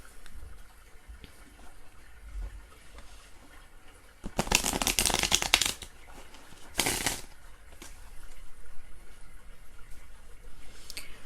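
Two quick bursts of riffling cards, a longer crisp shuffle followed by a short snap, against a quiet room.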